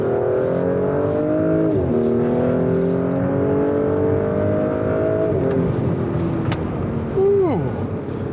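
A 2022 Audi S4 accelerates hard up a mountain pass, its engine note loud and steady from inside the car, climbing in pitch with each gear before dropping at two quick shifts, then easing off near the end.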